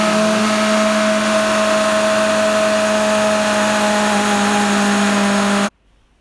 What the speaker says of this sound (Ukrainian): в блендері ми просто це все гарно перемішаємо